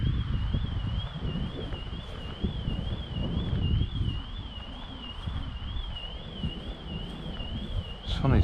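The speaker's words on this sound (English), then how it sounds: "I think it's going to be too windy again" Wind gusts outdoors at a flying field for a Silverlit X twin-engine toy biplane, buffeting the microphone with a rough, low rumble, while a wavering high whine runs steadily throughout.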